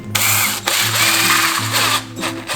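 A Jaya JPD-126 cordless drill whirs loudly in several close, steady bursts with brief pauses between them, no voices present.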